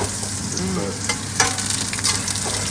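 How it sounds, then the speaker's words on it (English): Butter sizzles and spits as it melts and browns in a hot pan, a steady crackling fry with occasional sharper pops and scraping stirs throughout, no talking. "The 30 grams of butter in there to melt. Make sure it doesn't burn."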